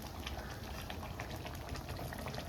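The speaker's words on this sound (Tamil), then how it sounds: "இது வந்து வேகணும், நண்டு வேகணும், கொஞ்சம் நேரம் ஆகும்" A thick crab and chicken gravy boiling in a pot, a loud close steady bubbling and sputtering with no pauses and no voices.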